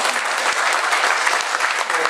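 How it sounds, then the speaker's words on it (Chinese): Warm applause from an audience at a medical forum, steady dense clapping throughout at close range. "再给他一个热烈掌声一下。"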